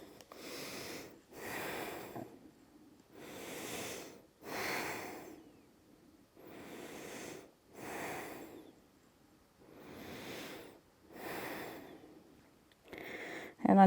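Slow, deep breaths taken while holding a yoga pose: about seven long, evenly spaced inhale and exhale cycles, close and airy with soft rushing noise, alone without talk.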